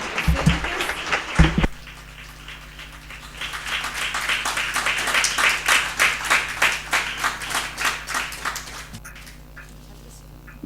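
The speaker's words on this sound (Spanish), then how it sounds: "Un aplauso aquí de parte de los docentes." After a brief moment of noise, a lecture audience in Chile breaks into sustained applause that swells into rhythmic clapping before fading out.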